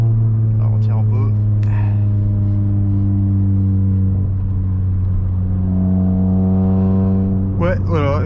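A Suzuki Swift Sport 1.6 engine drones loudly and steadily from inside the car, its pitch holding then climbing toward the end under hard acceleration, with a voice breaking in briefly at the start and near the end.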